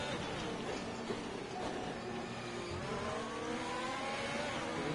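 A McLaren race car in a racing video game accelerates on the Brazil circuit, its engine a quiet, sustained whine that climbs in pitch with no voices over it.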